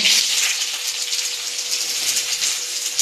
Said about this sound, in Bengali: কোচানো পেঁয়াজটা দিয়ে একটু ভেজে নেব হালকা।